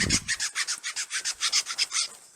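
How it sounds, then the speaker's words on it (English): A hand file rasps against wooden reindeer parts in quick, regular back-and-forth strokes, close up and steady, with no talking. "I'm just using a file and slowly getting them to fit."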